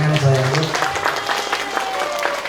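A voice sounds over the start, then clapping from the audience at an Islamic New Year gathering with a humorous sermon fills the room, sharp handclaps spread across a lively crowd.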